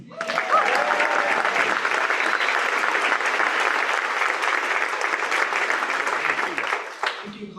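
An audience at a ribbon cutting ceremony gives loud, sustained applause to welcome the new president of South Dakota Mines, a dense wash of clapping that fades just before a voice begins.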